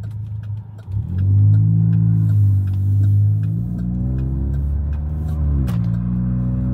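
Chevrolet Cruze Turbo running a Stage 2 tune on ethanol drives along a street, its engine droning loud and steady, pulling up through the revs, easing briefly and climbing again.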